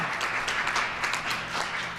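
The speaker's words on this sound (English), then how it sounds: "You can cheer for that." An audience breaks into applause and cheering at an announcement, a steady, fairly loud wash of many hands clapping that continues for the whole two seconds.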